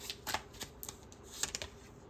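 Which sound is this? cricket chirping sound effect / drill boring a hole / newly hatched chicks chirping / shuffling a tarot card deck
shuffling a tarot card deck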